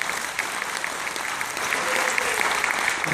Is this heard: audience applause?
yes